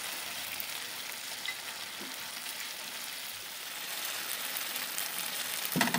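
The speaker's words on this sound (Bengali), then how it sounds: "এই পেস্টটাকে দিয়ে আর একটু ভালো করে কষিয়ে নেব" Chicken masala for begomoti chicken sizzles in a pan with cashew and almond paste, frying steadily for several seconds. The stirring is faint, and a brief louder scrape comes near the end.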